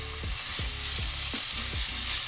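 Meat searing in a hot pan for Japanese home-style curry, with a steady loud sizzle and a few soft scraping stirs as the pieces are turned, and no voices.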